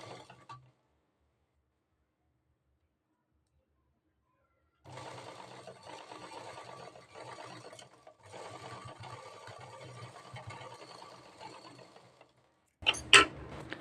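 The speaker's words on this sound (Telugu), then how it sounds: "ఇక్కడ కూడా సేమ్ అలానే నీడిల్ లోపలికి ప్రెస్ చేసి రిటర్న్ చేసుకొని కుట్టుకోవాలి" A sewing machine stitching the star-shaped front neckline of a blouse runs in a steady mechanical chatter for several seconds, pausing briefly partway through, after a quiet gap and before a sharp clatter at the end.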